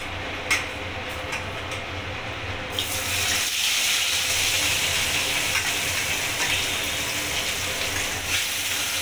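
Rohu fish pieces fry in oil in a kadai over a low gas flame. A steady broadband sizzle starts softer and swells louder after about three seconds, then holds evenly with no voices.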